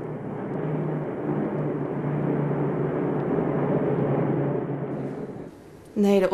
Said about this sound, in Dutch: Maar dan opeens dat geronk. De vliegtuigen komen.